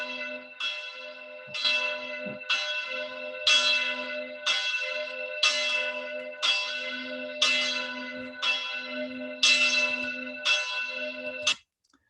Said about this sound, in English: You see the bells swinging merrily here.